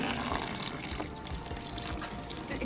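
Cold groundwater from an old village drinking-water source in a village near Kyiv, Ukraine, pours in a steady, close splashing stream, heard alone and unbroken.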